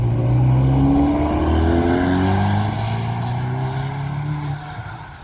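A car corners at a sprint track, its engine note droning loud and close with rising and falling pitch sweeps as it pushes wide with heavy understeer, then fading slightly toward the end; no speech.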